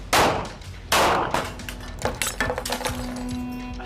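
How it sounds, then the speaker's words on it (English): A ricocheting bullet shattering a fluorescent bulb, heard as two loud sharp bangs followed by a burst of clinking, tinkling glass fragments scattering nearby. "when I hit the material the second time, and bounced and right into the fluorescent bulb above my head"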